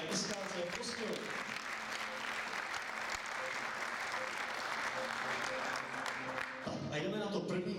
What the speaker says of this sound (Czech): Potlesk pro družstvo mládeže SKC Prostějov